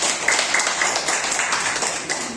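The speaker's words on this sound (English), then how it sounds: "give applause to Nat" Audience applause for Nat in a junior high school classroom, a steady broad wash of clapping hands that holds for the whole stretch, moderately loud, with no voices over it.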